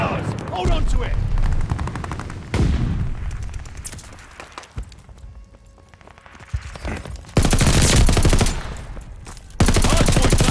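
Call of Duty: Vanguard gunfire at a hardpoint: dense machine-gun bursts and single shots crackle, with louder volleys returning after a quieter stretch in the middle, amid battle noise.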